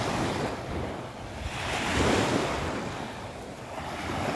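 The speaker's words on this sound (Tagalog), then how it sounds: "Ini-enjoy ang dagat, beach." Ocean waves break and wash onto a Bahamas beach on a morning walk, a broad rushing surf that swells and recedes in slow surges, mixed with gusting wind noise on the microphone.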